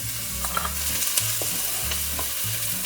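Onions sautéing in oil in a pan, a soft steady sizzle with repeated stirring scrapes at a regular pace, close and fairly quiet, no voices.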